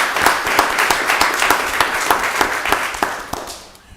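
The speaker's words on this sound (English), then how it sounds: "Let's give them all another round of applause." A room of attendees at a county board of commissioners meeting gives a round of applause, with distinct individual claps building briefly and then fading out toward the end.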